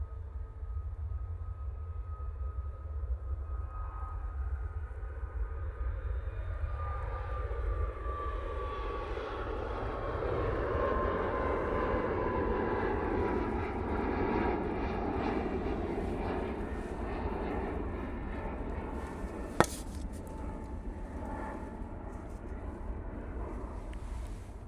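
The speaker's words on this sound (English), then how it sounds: "Oops, Flight Radar doesn't want to tell me where this Ryanair's going to. But I can tell you now, it's out of Fuerteventura. It's the 737 MAX 8." A Ryanair Boeing 737 MAX 8 jet at Manchester Airport roars steadily for the whole stretch, its engine whine sliding slowly downward as it passes. One sharp click stands out near the end, with no voices.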